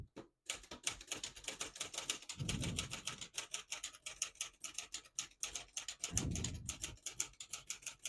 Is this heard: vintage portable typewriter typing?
yes